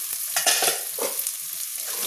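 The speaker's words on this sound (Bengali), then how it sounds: "এবার সবজি আর আলুটাকে নাড়া করে দেবো" Vegetables and potatoes frying in a pan as they are stirred, with scraping spatula strokes over a continuous hissing sizzle, close and fairly loud, no voices.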